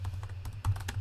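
Rapid clicks of fingers on a computer keyboard, about eight or nine close, crisp keystrokes in an uneven rhythm over a low steady hum.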